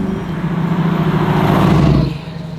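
A 1968 Chevrolet Camaro SS convertible restomod with an LS engine drives by close and loud, its engine note holding a steady drone before falling away near the end.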